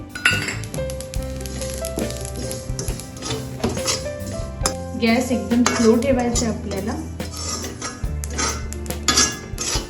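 Garden cress seeds and poppy seeds are stirred while dry-roasting over low heat in a kadhai, giving a steady run of metal scraping and light clinks, with brief speech.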